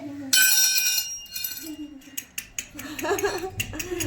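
Children playing with toy plates and pots: bright metallic clinks and clatters, one loud crash at the start then scattered taps and rattles, close by, with a voice and adult talk mixed in.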